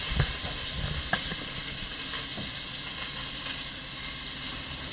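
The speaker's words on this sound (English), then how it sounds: "while the meat's frying up" Beef frying in a pot for beef bourguignon, a steady dense sizzle and hiss throughout with faint scattered pops and clinks, no talking.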